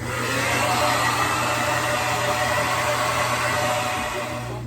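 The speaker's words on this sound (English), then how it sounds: "I'm gonna finish drying my hair and we'll see how this goes." A hair dryer blows steadily while drying hair during a home root-lightening session, a loud, close, continuous whooshing hum with a constant pitch and no break for nearly five seconds.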